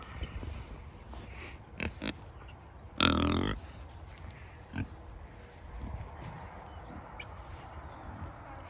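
Pigs on a farm give soft, low grunts with a few louder snorts, close but quiet, amid outdoor background noise.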